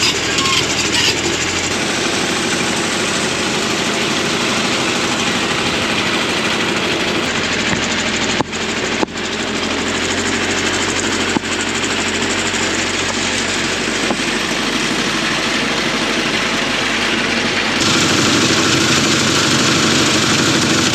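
A big excavator engine runs steadily while digging dirt for gold, a loud, continuous mechanical roar with clanks and knocks. It carries on for the whole stretch, and a voice can be made out underneath it.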